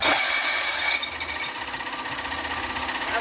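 Starter motor of a 30 hp Evinrude outboard, a loud close high-pitched grinding whir that drops in pitch after about a second and keeps churning steadily, with no voices.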